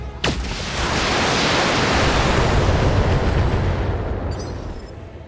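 Mech weapons firing and exploding in the BattleTech video game, a sharp crack followed by a loud, sustained roaring blast that swells and then slowly fades, with no talk over it.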